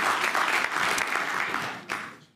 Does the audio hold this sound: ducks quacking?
no